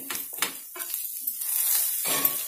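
Tawa idli roasting in butter on a griddle at a Hyderabadi street-food stall, bursts of hissing sizzle coming and going with scraping spatula sounds over a brief stretch.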